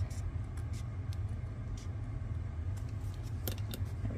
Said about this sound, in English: So I'm just gonna freehand it with my scissors here.